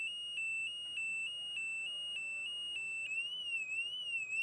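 A bicycle alarm system sounds a loud, piercing electronic tone, first as a rapid string of repeated beeps, then switching to a warbling, rising-and-falling siren pattern.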